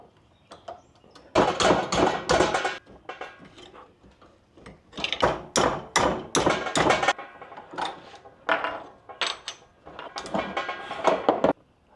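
A mangled, bent BMW S65 rod bearing is hammered in bursts of sharp metallic taps, grouped in quick flurries with short pauses between, close up and fairly quiet overall.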